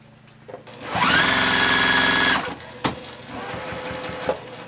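A sewing machine stitches quilt binding in one steady, loud run of about a second and a half, then stops for a short backstitch and lock-off, with a few soft clicks and handling sounds afterward.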